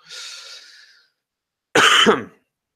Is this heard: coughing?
yes